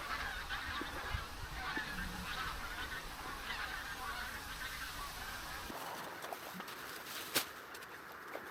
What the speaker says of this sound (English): There's a geese coming through.